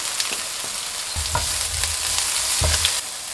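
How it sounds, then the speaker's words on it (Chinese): Shredded carrot and wood ear mushroom are stir-fried in a wok with a loud, steady sizzle, punctuated by several thumping scrapes of the spatula tossing the vegetables. "炒至胡萝卜丝微微变软"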